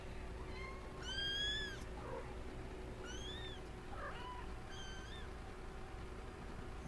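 Several small kittens meow in high, thin, rising cries, a few calls spread across the stretch over steady low background noise, fairly close.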